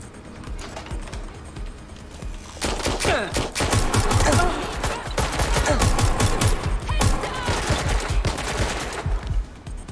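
Rapid bursts of automatic gunfire in the video game Watch Dogs Legion, dense overlapping shots and sharp impacts rattling in a sustained firefight, loud and close with brief gaps between volleys.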